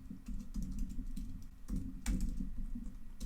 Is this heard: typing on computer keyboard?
yes